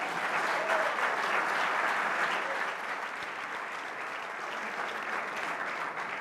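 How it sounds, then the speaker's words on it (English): The audience at the 2021 Rolex LPGA Awards ceremony gives sustained applause, dense and even, slightly louder at first and then settling to a steady level with no talking. "please give them a big round of applause"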